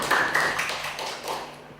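A church congregation claps together in worship, a steady patter of many hands filling the room, with a faint sustained tone running underneath.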